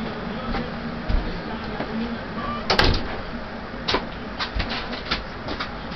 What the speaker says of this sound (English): Let me go close the door real fast.